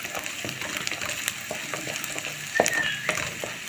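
Onions frying in a pan crackle steadily nearby, with scattered utensil taps and a brief metallic scrape near the end, without any talk.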